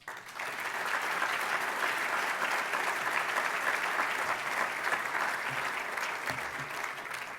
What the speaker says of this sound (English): say thank you to them with your applause